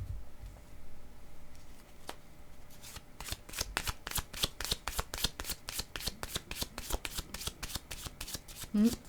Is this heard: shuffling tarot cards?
yes